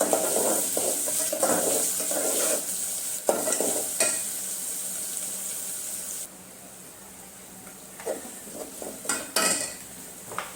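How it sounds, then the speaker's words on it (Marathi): Masala for an egg biryani sizzles and fries in a pan while a utensil repeatedly scrapes and stirs it, loud and steady at first, then quieter with scattered clinks and scrapes toward the end. "मसाल्याला चांगलं शिजू द्यायचं ब्राऊन होतपर्यंत हे बघा ब्राऊन होतपर्यंत शिजू देते याला"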